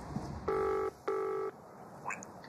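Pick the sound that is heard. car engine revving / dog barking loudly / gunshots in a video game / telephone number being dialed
telephone number being dialed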